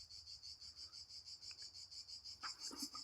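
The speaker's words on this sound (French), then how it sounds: "Oh la cigale!" A cicada sings nearby in hot summer weather, a loud, pulsing buzz that throbs in a steady rapid rhythm. A few faint clicks and rustles sound beneath it near the end.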